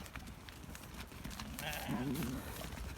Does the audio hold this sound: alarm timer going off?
no